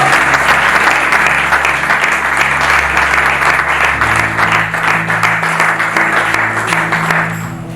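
A church congregation bursting into loud, sustained applause and clapping, close and full, with organ or keyboard tones held underneath until it fades at the end.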